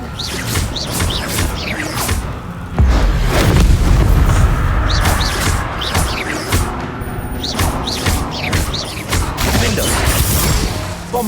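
Repeated Bombarda blasting-spell explosions in a Hogwarts-style magic video game, heavy booms and crashing impacts rolling one after another, loud and close with rumbling debris between blasts.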